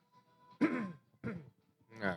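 Three bursts of coughing and throat clearing from a man, close and fairly loud, separated by short pauses with no speech.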